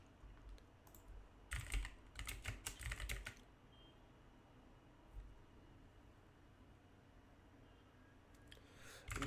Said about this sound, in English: I have to keep typing it.